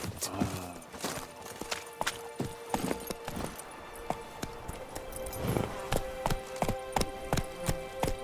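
Hooves of the horse Roach in The Witcher 3 drum in a quick, regular clip-clop rhythm, close and fairly loud, with occasional ringing tack and faint background talk.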